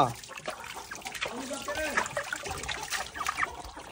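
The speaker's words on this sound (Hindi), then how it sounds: "आज हम ऐसा करते अपने सारे बर्ड्स को नहला देते हैं क्योंकि गर्मी ज़्यादा है" Water poured over a white rooster during a hot-weather bath, with close trickling and light splashing that runs under someone talking throughout.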